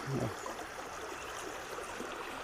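Water trickling and flowing steadily from a lake into a river, a faint continuous babbling stream with no voices.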